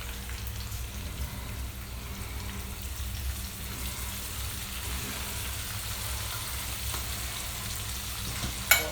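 Adobo-seasoned ground turkey sizzles and fries in a pan while it is stirred, a steady close crackling hiss with soft scraping underneath, ending in a brief sharp knock.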